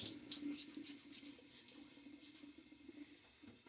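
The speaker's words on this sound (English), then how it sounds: "Splash a little bit of water now on my face" Water running from a tap into a sink while shaving at the sink, a steady close stream with a few small splashes as hands scoop it.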